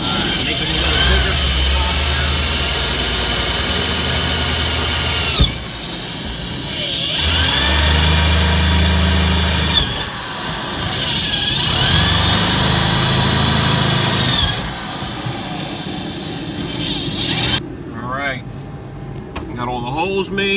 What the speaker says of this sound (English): we're gonna wire brush the floor real quick, clean it up, get all the crap off it